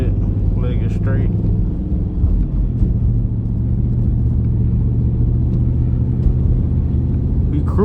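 A Dodge Magnum SRT8 engine rumbles loud and close in a deep steady drone, dropping a gear with a shift in pitch partway through, while someone talks over it.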